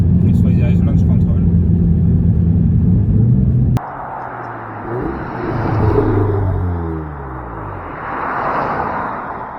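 A 400 bhp Audi S3 8V Black Edition launches hard: a heavy idling rumble cuts off, then the engine and exhaust climb through rising revs and gear changes, loud and close, with talk around it.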